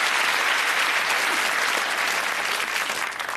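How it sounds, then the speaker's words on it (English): Studio audience at a UK darts-themed game show giving a contestant a warm round of applause, a dense, loud, sustained wash of clapping that tapers slightly at the end. "give our sixth contestant a really warm round of applause."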